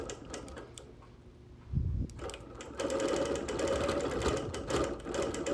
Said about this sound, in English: Quilting around all the little, not all, around the major embroidery flowers and such